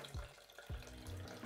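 Water running from a kitchen tap, a quiet short burst of splashing flow with a couple of low gurgling bumps as it fills, faint and close.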